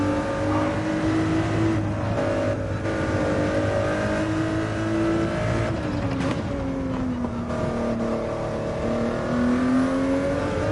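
A simulated racing car lapping Abu Dhabi drones continuously up close, pitch sagging and climbing as it shifts and brakes for corners, with a few short breaks in the roar.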